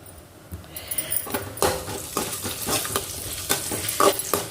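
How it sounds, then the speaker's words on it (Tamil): Dal, onion and curry leaves frying in hot oil, a continuous close sizzle broken by repeated scraping stirs of a spoon against the pan. "பருப்பு நல்லா செவந்ததும் வெங்காயம், கருவேப்பிலை சேர்த்து நல்லா வறுத்து விட்டுக்கலாம்"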